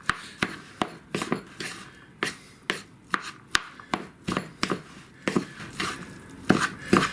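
Summer Tex-Mex rice wrap filling gets chopped and stirred with a utensil in a bowl: a brisk series of sharp, close taps and scrapes, roughly two a second, with no talking.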